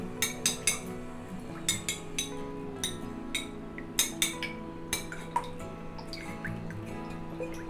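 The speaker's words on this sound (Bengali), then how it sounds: "এখানে একটি ডিম আর 3 টেবিল চামচ তরল দুধ দিয়ে ফেটিয়ে রাখবো।" An egg and three tablespoons of milk are beaten together in a bowl as a coating for chicken potato balls. Light, irregular clinks and taps of the utensil against the bowl come close and alone, with no talk.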